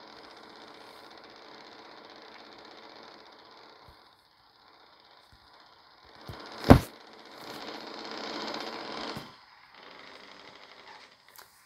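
A truck engine runs with a steady low rumble while backing a trailer into water. There is a sharp thud midway, and the engine swells briefly before settling.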